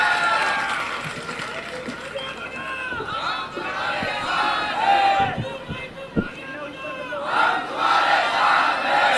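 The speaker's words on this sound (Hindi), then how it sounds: "सबसे पहले राजू भाई सोलंकी के लिए ताली बजा दीजिए जोर से।" A large crowd at an election rally cheers and claps for a candidate, a loud, sustained roar of voices and shouting with scattered claps rising and falling, and a few sharp thumps near the middle.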